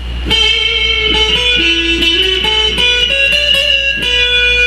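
A sustained, distorted electric guitar phrase with bent and sliding notes, played loud and close with no voices.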